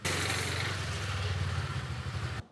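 Motorcycle engine running steadily during a test ride after repairs, a loud, continuous low rumble with a dense hum throughout, alone with no talk.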